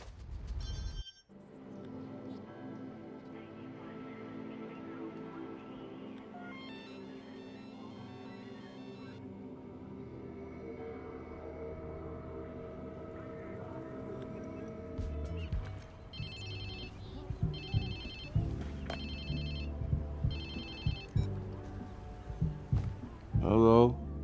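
A phone rings in the video game Watch Dogs 2, its repeated electronic ringtone bursts arriving in a steady rhythm late in the stretch over a continuous background of game sound.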